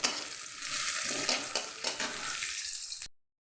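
Onions and green chilies frying in hot ghee with cumin in a pan, a short close hiss of sizzling with a few stirring scrapes, ending abruptly.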